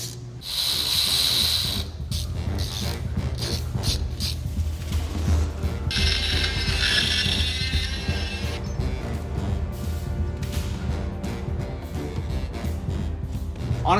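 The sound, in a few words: tapping threaded holes in Tacoma transfer case tabs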